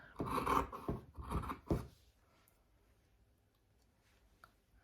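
A few close scissor snips cutting through cloth in quick succession, then near silence with a faint tick near the end.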